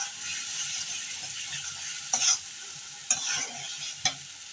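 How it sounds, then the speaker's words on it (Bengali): A spice paste for fish and eggplant sizzles steadily in a pan, with three sharp stirring scrapes standing out against the continuous frying hiss. "মাছ আর বেগুনের জন্য মশলাটা কষিয়ে নিচ্ছি"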